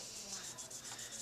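Old thermal paste being wiped and rubbed off a copper or aluminum CPU cooler base, a soft, steady scrubbing close by with slight rhythmic swells, no talking.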